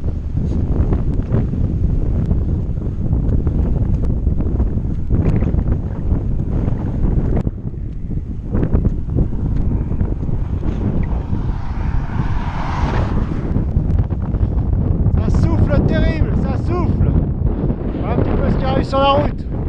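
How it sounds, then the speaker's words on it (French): Strong wind roaring and buffeting the microphone continuously, with brief voices and whistling tones breaking through in the latter part. "Incroyable vent."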